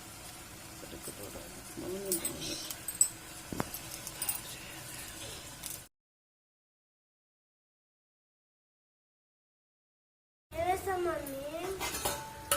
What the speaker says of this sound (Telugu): మీడియం ఫ్లేమ్ పెట్టి బాగా ఫ్రై చేయాలి.